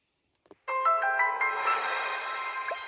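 A phone in the Roblox video game rings with a loud, steady electronic ringtone that starts abruptly after a couple of faint clicks and carries on alone to the end.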